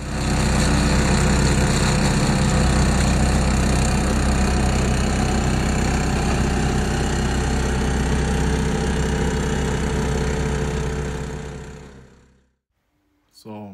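A Yamaha YT660 snow blower engine runs loud and steady at a constant drone for about twelve seconds, then cuts off abruptly, leaving near silence before a brief noise at the end.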